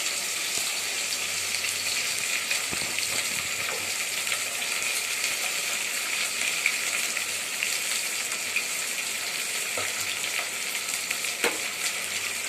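Green chillies and onion fry in hot oil for a homemade biryani, giving a loud, steady, close sizzle throughout, with a few faint clicks of stirring and no voices.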